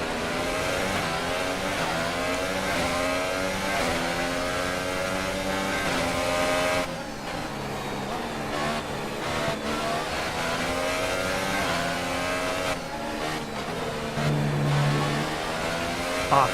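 Formula 1 race car engines from F1 2018, a Williams in career mode at the Austrian Grand Prix, roar continuously and loudly. Several cars run close together, with rising and falling pitch as they rev and shift gears.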